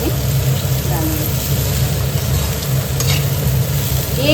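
Arbi (taro root) pieces frying in a pan, a continuous dense sizzle with occasional stirring scrapes throughout, loud and close.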